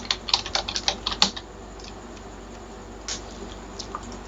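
Rapid keystrokes on a computer keyboard while an Excel comment is typed: a close, crisp burst of clicking for about a second, then a few sparse, quieter taps over a low room hiss.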